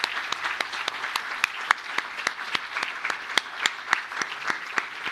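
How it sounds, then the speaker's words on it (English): A ceremony audience applauds merit recipients with steady, dense clapping that carries on for several seconds, heard from a moderate distance, with crisp individual claps standing out from the crowd. "Can we now have a round of applause for all of our merit recipients today?"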